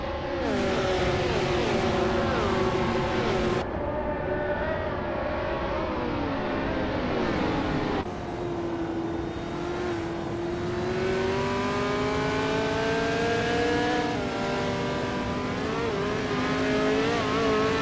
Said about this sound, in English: We're just about to watch some exciting AI cars race against each other.